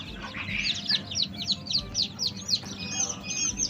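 A basket of roughly seventy domestic chicken chicks, hatched together with quail chicks, chirps constantly, rapid high peeps overlapping in a busy chorus close by over low background rumble.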